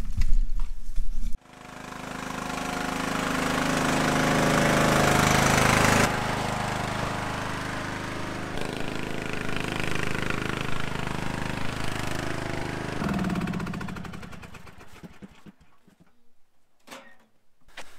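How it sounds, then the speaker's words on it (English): A small lawn tractor mower engine with a new carburettor starts up after a brief burst, runs steadily at close range for several seconds, then winds down and stops. "So this mower runs awesome."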